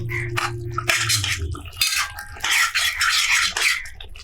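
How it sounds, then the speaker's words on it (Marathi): Roasted parwal being stirred in a cooking pan, with a spatula scraping and clinking against the metal in uneven bursts, close and fairly loud, with no talking. "जी आपण परवर भाजून ठेवली आहे ती घालूया चांगली मिक्स करूया"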